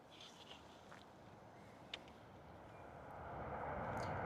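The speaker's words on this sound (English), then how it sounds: "Ryanair coming in." A Ryanair airliner coming in to land at London Stansted Airport, a low distant engine rumble that slowly swells louder toward the end, with a faint brief click partway through.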